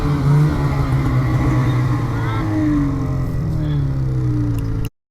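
Snowmobiles riding along a snowy trail on the way back to the trailer, a loud, steady engine drone with harmonic sweeps that rise and fall, close by, ending abruptly.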